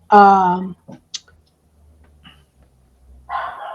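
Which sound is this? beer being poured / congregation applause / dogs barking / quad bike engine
dogs barking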